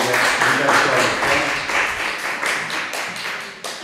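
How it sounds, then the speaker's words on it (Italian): An audience claps for a speaker, a close, dense round of applause that fades slightly toward the end, with some voices mixed in. "Grazie all'applauso"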